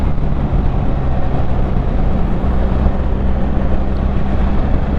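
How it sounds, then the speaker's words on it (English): BMW GS1300 motorcycle engine pulling hard under a twisted throttle, a steady, loud low drone mixed with heavy wind rush, continuous and without talk. "Twist the throttle and you are gone."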